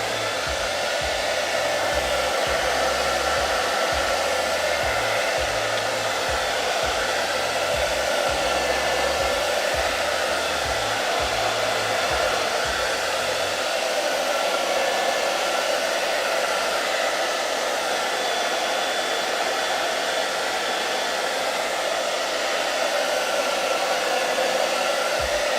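Hair dryer running continuously on a chalk paint craft project, a steady loud whooshing drone throughout, close with no voices.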